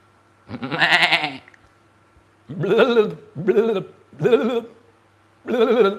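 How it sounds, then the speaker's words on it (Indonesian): A billy goat bleats five times, one long wavering cry followed after a pause by four shorter, closely spaced bleats, loud and near against a quiet low hum. "Itu baru suara kambing."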